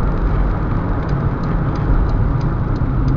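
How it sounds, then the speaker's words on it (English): A steady, loud engine roar from inside a moving 2011 Mercedes-Benz C200 2.2 diesel as it shifts through the gears, holding a continuous drone without clear breaks. "Going through the gears there now"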